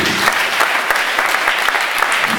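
A church congregation at a Sunday service claps steadily, a dense and even round of applause from many hands that carries on loud throughout.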